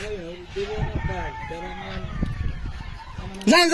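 Ducks at a farm, the agro farm of 313 Properties, quack and honk in a busy flock under steady talk, with a louder burst of calls near the end.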